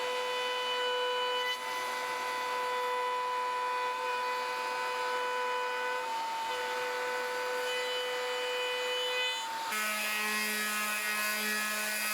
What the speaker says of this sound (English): We're gonna cut this off with the radial, which is just the best saw in the world.